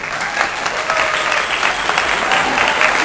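Sustained clapping from a small group after a playful call for applause, dense and steady for about three seconds with no speech over it.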